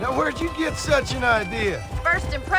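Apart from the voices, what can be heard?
None of the usual background noises is heard.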